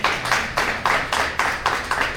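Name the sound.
audience applause for a guest speaker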